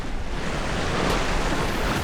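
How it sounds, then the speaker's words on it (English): Ocean waves and wind rush past a sailboat out on the Atlantic, a steady broadband wash of surf and wind noise on the microphone, fairly quiet and continuous with no voices. "this is a big wave"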